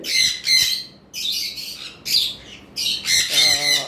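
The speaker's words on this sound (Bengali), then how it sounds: "সানকোনর আমাদের কাছে যেগুলো আছে মাত্র দুইটা পেয়ার আমাদের কাছে রয়েছে" Pair of sun conure parrots in an aviary setup giving harsh, shrill squawks, close and loud, in several short bursts with brief gaps between, the last calls overlapping.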